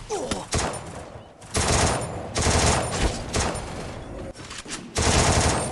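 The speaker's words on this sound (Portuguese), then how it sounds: "tem cara dando tiro de uma arma de um tiro" Loud bursts of rapid gunfire from an online shooter game crackle in repeated volleys separated by short pauses, close and dominant with no talk over them.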